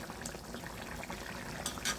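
A fish curry of koi, puti and rayna fish with tomato simmers in a pan, bubbling steadily up close with small pops and gurgles.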